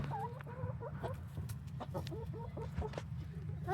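Chickens cluck and chatter at close range over a constant low background hum, with a few soft bird calls scattered throughout and no clear talking.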